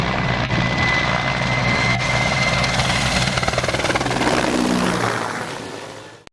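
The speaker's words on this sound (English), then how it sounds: "what is this MIL Mi-26 helicopter doing" A Mil Mi-26 heavy-lift helicopter roars steadily with a deep rotor thrum and whining engine, then the sound fades away at the end.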